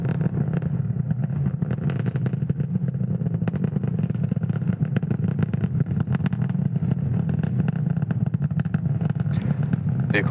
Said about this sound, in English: has successfully lifted off from Slick 40 at Cape Canaveral, Florida at 1:31 a.m. Eastern Time.